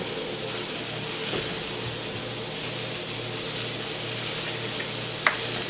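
Vegetables sauteing in olive oil in a pan, a steady close sizzle and crackle running without pause, with a faint clink of a utensil near the end.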